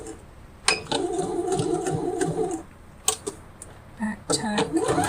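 A sewing machine runs a straight stitch in short steady bursts, its motor whirring and stopping a few times, with a person talking over and between the runs.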